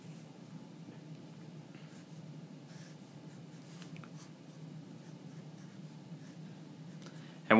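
A marker squeaks and scratches across a board while a thread diagram is drawn, continuous quiet strokes with faint room hiss and no speech.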